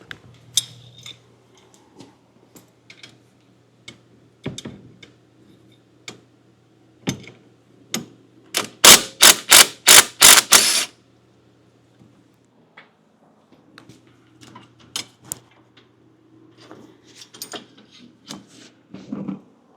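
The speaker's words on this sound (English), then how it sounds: "Now I'm going to remove that nut." Nut being removed from a tractor 3-point hitch lift arm, scattered metallic clicks and ticks, then a quick burst of rapid ratcheting clicks in the middle, followed by more sparse clinks, close and fairly quiet.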